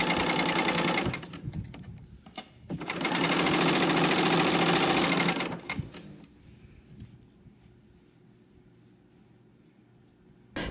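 A home sewing machine stitching knit fabric for a dress runs in two loud, steady bursts with a brief pause between them, then drops to a quieter low hum.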